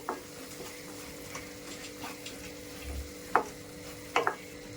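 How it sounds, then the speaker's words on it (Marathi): Dry prawn masala with fresh coriander is stirred in a pan over a low, steady sizzle, with a few scraping clicks of the spoon against the pan, close and quiet. "कोथिंबीर ऍड करून झाल्यानंतर मी मिक्स करून घेणार आहे."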